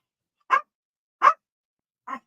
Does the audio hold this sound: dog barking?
yes